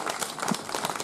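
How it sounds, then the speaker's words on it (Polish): Audience clapping at a live improv comedy show, a dense steady patter of many hands in a room, brief and fairly soft, with no talk over it. "Wielkie brawa!"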